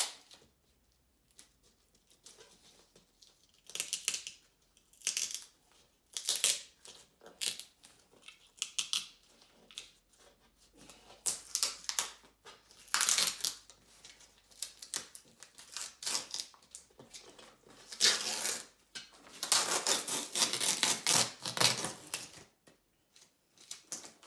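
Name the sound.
peeling peel ply off a box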